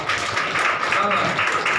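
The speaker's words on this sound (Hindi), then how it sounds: "उनके लिए भी ताली।" Congregation clapping steadily at an Easter church service in Atarra, Banda, a dense continuous patter of many hands filling the room at moderate loudness.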